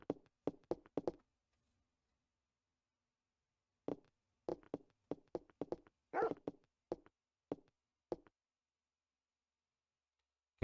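Short sharp barks and yelps from a police dog in the Parasite Eve video game, coming in quick clusters separated by a pause, with one longer whining bark near the middle, loud and with no speech.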